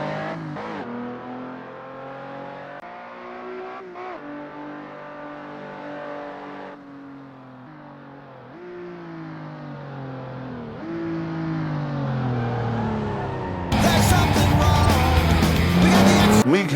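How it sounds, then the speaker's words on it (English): A 2013 Lotus SJ sports car with a 345-horsepower V6 driving a lap, its engine note rising and falling through gear changes, loud and close, ending in a harsh burst of noise with tire squeal. "This is the 2013 Lotus SJ, sporting a V6 engine with 345 horsepower."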